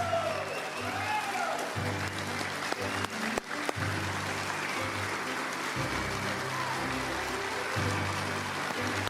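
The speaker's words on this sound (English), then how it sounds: "Let's give these 2019 College Baseball Hall of Famers one more round of applause on their walk of legends." An audience at a College Baseball Hall of Fame induction ceremony breaks into sustained applause, a dense wash of clapping that fills the room at moderate level.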